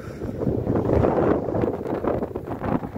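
Wind buffets the microphone on Glencairn Beach along the False Bay coast in Cape Town on a breezy November day, a loud, steady low roar with gusty swells and no voices.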